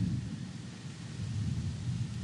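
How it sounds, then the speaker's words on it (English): Thunder from an approaching storm heard near a lake, a continuous low distant rumble rolling steadily without breaks. "I don't know if you guys hear that thunder, but"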